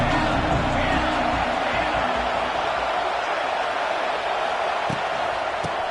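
Stadium crowd noise from an NCAA 26 college football video game, a home crowd at an Oregon game: a dense, steady roar fills the whole clip at constant loudness, with a couple of faint thumps near the end.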